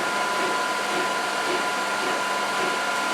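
A photo printer producing an 8x10 print gives a steady, even whirring hiss that holds at the same level throughout, with no talking.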